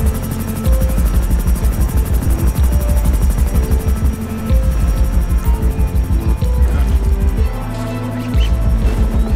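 Steady rapid thumping of helicopter rotor blades in the video game GTA 5, loud and close, continuing throughout with brief dips in intensity.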